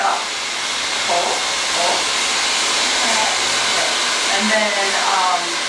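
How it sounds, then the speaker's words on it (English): A hair dryer blows in a steady, loud rush while hair is sectioned and pulled up with a round brush; a voice speaks briefly over the airflow. "put the dryer down"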